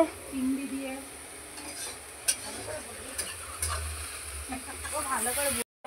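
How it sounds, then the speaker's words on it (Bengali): Green banana slices frying in a pan give a soft, close sizzle, with scraping stirs and a few sharp clinks of utensil on pan. "ওইদিকে কাঁচকলা ভাজা হচ্ছে"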